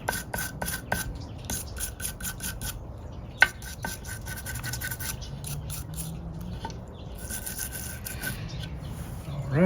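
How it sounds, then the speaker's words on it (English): A coarse brush scrubs dirt off garden pruners in rapid rasping strokes, close and fairly loud, with a few sharp knocks and brief pauses between bursts. "this is just a coarse brush, just trying to get all of the big chunks off of this stuff"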